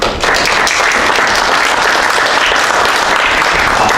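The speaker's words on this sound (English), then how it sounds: "Can we get one more round of applause for Eric?" A lecture audience at an engineering institute applauds, a loud, sustained wash of many hands clapping close by with no break.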